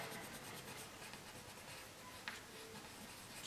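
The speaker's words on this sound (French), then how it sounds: "je tourne un peu la feuille pour colorier au mieux" A black Irojiten colored pencil scratches steadily across paper in continuous, close, fine strokes with no speech.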